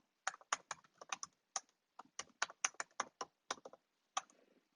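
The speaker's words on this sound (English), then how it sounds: "where we need to type in our personal information" Personal details are typed on a computer keyboard: a quick, uneven burst of crisp, close key clicks, about twenty strokes in under five seconds, with short pauses between clusters and no voice.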